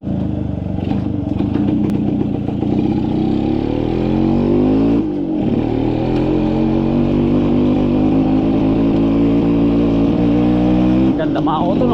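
A repaired motorcycle engine, fixed by joining parts and replacing worn components, runs loud and close, its pitch rising and falling as it revs with clattering tones, briefly dipping midway, and a voice speaks over it.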